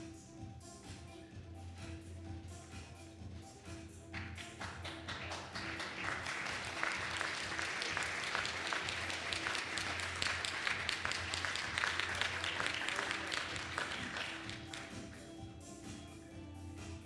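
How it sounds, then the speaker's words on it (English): A crowd at a 2023 ICPC North American Championship closing ceremony applauds, the clapping swelling into a dense, steady roar for several seconds before gradually thinning, with a low hall hum underneath. "please, another huge round of applause for Carnegie Mellon University"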